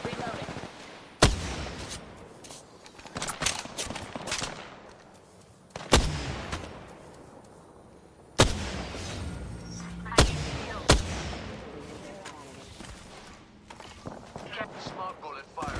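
Smart bullets firing in the Apex Legends video game, several sharp, loud gunshot cracks spaced a few seconds apart, each with a short rattling decay, over a background of game noise and speech.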